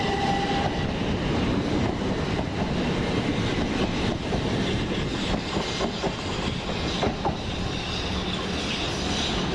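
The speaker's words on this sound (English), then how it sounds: "Train now approaching platform 5 is the 1558 Southern service to South Croydon" A Southern Railway train, a Class 375 unit, rumbles into a platform at East Croydon station, with steady loud rolling noise, rail clatter and brief high squeals building and fading over the pass.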